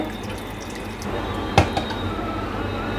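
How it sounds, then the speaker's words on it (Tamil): Water trickles and drips in a quiet indoor space as a mixer jar is rinsed out for pumpkin dosa batter, with one brief splash standing out near the middle. "இதில் கொஞ்சம் தண்ணி கழுவி ஊற்றிக்கலாம் மிக்ஸி ஜாரை"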